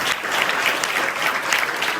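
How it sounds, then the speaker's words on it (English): Audience applause honoring a recipient of a foundation's international award at a ceremony, a dense, steady wash of many hands clapping that holds evenly for about two seconds. "Give her a big applause for her dedicated work and"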